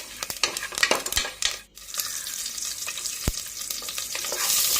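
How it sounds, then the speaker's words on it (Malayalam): Fennel seeds, cinnamon and crushed cardamom sautéing in hot oil in a pan, a loud continuous sizzle broken by sharp clinks and scrapes of a spoon stirring against the pan, with a brief lull midway. "പെരുംജീരകം, പട്ട, ഏലക്ക ചതച്ചത് ഇത്രയും ചേർത്ത് കൊടുത്ത് ഒന്ന് വഴറ്റിയെടുക്കാം."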